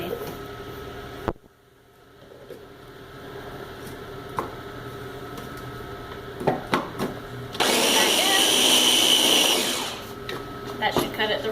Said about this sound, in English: And this happens every time you use a food processor